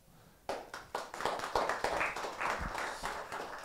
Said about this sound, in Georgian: აპლოდისმენტებს მოვითხოვდი აქ.